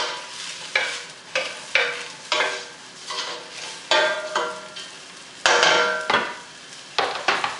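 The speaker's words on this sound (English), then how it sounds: "Then I'm going to add my garlic. Again, I'm sauteing this very quickly." Garlic sautés quickly in a pan, heard as a rhythmic series of about a dozen short, bright scraping strokes with sizzle swelling and fading between them, close and clear with no talking.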